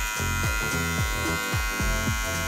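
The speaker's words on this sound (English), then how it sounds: "We're gonna have the Bevel Trimmer first." A Bevel Trimmer electric hair trimmer runs with a steady, close, loud buzzing drone, its pitch warbling slightly in a regular pulse throughout.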